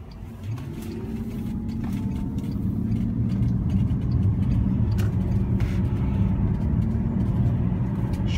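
Bentley car engine pulling along a road, a steady close low rumble that swells slightly after the first second and holds strong to the end.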